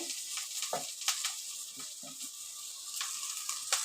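Onion, grated ginger and garlic frying in oil, a steady bright sizzle with a few soft stirring scrapes scattered through it.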